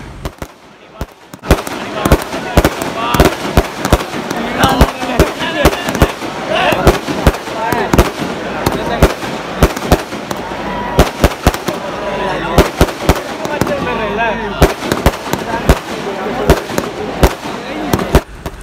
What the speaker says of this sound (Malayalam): മത്സരം തുടങ്ങുന്നതിന് മുമ്പുള്ള ചെറിയ വെടിക്കെട്ട് ഇവിടെ ആരംഭിച്ചിട്ടുണ്ട്